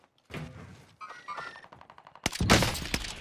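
Gunfire in the Warzone Caldera battle game: a sharp, loud burst of shots near the end after quieter in-game thuds and rustling, with no talk over it.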